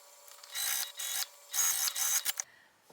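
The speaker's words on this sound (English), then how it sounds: "we're going to sew them with the seam allowance given in the pattern" A sewing machine stitching fabric pieces together runs in short whirring bursts, four or five runs separated by brief pauses, close and fairly quiet.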